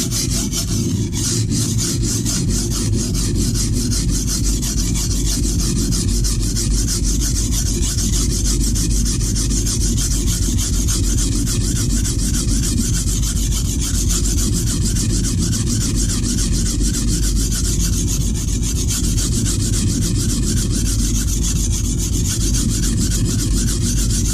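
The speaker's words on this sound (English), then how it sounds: "now remember we are on the fine side of a crystalline stone, so this is going to be a 320-ish grit" A kitchen knife with a chipped edge is sharpened on the fine, roughly 320-grit side of a crystalline bench stone, giving a steady, close, continuous gritty rasping of steel on stone with no talk.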